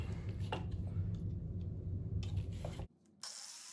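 An angle grinder mounted on a homemade DIY slider cuts through steel rebar with a loud, continuous harsh grinding roar for nearly three seconds, then abruptly stops, leaving a brief quieter moment before a softer hiss returns.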